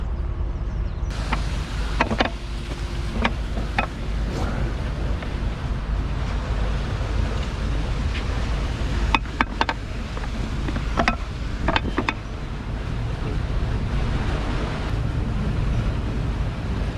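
Water rushes steadily into a narrow canal lock on the Northampton Arm as the paddle is opened gently, a continuous broad roar close by with occasional clicks and knocks over it.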